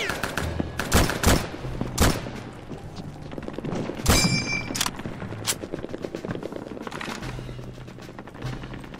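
Bursts of gunfire in the video game Return to Castle Wolfenstein crack out in clustered volleys of sharp shots, loud and close over a low game ambience, with a few rapid automatic runs between single reports.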